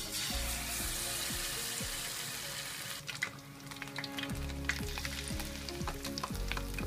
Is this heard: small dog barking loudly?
no